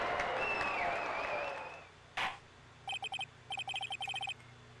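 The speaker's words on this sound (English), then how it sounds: "And they're cheering! And they're cheering!" A crowd cheers loudly in the courtroom of the Phoenix Wright: Justice for All video game. The roar fades after about two seconds, then a thud follows, and then several quick bursts of game text blips.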